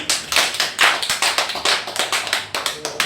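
Audience applause greeting a lecturer at a Korean talk on the four seasons of a hundred-year life, a dense steady clapping from a crowd that swells and holds throughout without any talking.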